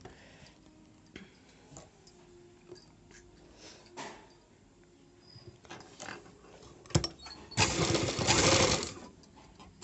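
A sewing machine stitches a blouse lining in short, quiet runs of rapid ticking, ending with a louder, faster burst of stitching near the end, recorded close up in a quiet room.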